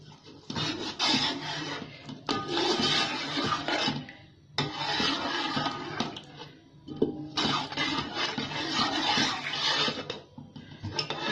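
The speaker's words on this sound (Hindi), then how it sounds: "डालेंगे पानी हम।" Water pouring into a bowl of flour while the batter for Karachi-style Javed nihari is mixed: a splashing, rushing stream that comes in long bursts with short pauses, close and fairly loud.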